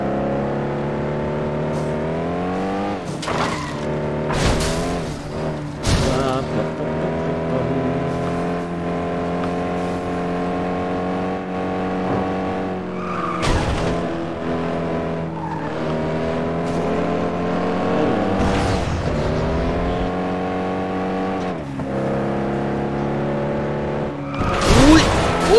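Racing game FlatOut 2 car crash with skidding: steady loud engine drone throughout, punctuated by several sharp impact bursts and tire squeals, the crunches clustered early and again mid-way.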